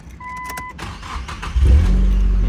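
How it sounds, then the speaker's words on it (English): A short electronic chime, then a 2000 Nissan S15 Silvia Spec S engine cranks and catches, settling into a low, steady rumble close by. "let me fire this bad boy up. All right, engine start video."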